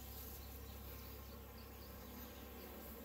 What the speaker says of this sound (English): we're going to shake these bees off in that mating nuc.